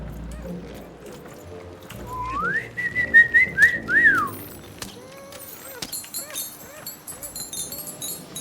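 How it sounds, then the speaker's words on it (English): A crisp, melodic whistle from Evan in the video game Lost in Random, a short rising-and-falling tune sounding clearly over soft ambient game background, with hoof-like clip-clops nearby. "The sound of Evan's whistle is nice and crisp."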